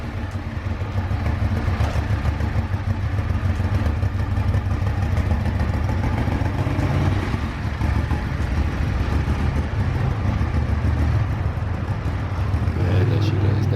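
A Ducati 1198 motorcycle engine with stock exhaust idles and revs with a deep, steady rumble close by, a person talking over it at times.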